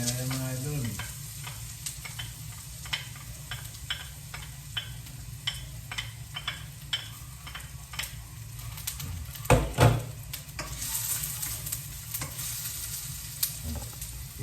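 Garlic and onion sauté together in a pan for a noodle dish, giving a steady close sizzle with regular clicking taps of a utensil stirring, and one louder clatter partway through.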